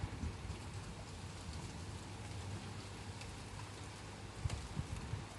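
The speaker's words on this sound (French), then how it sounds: "Commence à bien pleuvoir." Steady rain pours throughout during a nighttime thunderstorm in the Gard region of France, a dense continuous hiss with a few brief louder spatters near the end.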